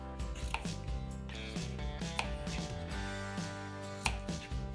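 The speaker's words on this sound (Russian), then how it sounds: "Берем 2-3 огурца среднего размера и отрезаем у них хвостики." A knife cuts the ends off two or three medium cucumbers on a board, giving a handful of sharp, scattered taps over steady background music.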